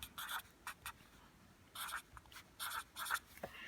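Marker or chalk strokes on a classroom board while a proportion is written, in quick irregular bursts of scratchy writing, faint and close with no talking.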